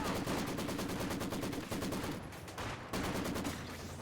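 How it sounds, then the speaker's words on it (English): A heavy machine gun fires in Company of Heroes, covering a fuel point in a real-time strategy match: sustained, loud rapid bursts with short gaps, with no speech in between. "Nice placement of this heavy machine gun. It's in a nice and safe place. It can just fire away at anything trying to take that fuel point."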